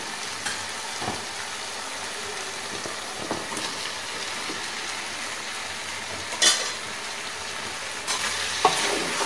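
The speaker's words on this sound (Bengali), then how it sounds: "আরও কিছুক্ষণ আমি আলুগুলো দিয়ে এটা কষবো।" Fried potatoes hiss and sizzle in spice paste in a pan while a spoon stirs with scrapes and occasional clinks, a steady close frying sound with no voices.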